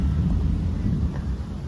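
Distant thunder rolling as a storm approaches a narrowboat moored on the Shropshire Union Canal, a low continuous rumble heard alone with faint wind.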